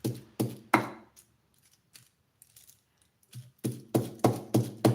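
An electric food chopper used in a home kitchen to chop cooked carrots runs in short sharp bursts, a few pulses at first, then a quiet stretch, then a rapid run of loud pulses.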